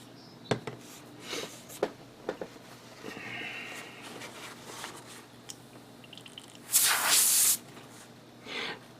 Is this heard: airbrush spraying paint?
yes